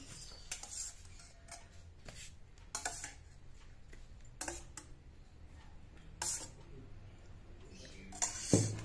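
Plates being set out on a table one by one, giving sparse, light clinks and taps of crockery at moderate distance over a quiet room background.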